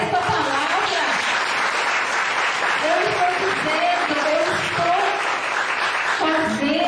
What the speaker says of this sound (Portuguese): Dá uma salva de palmas para esta palavra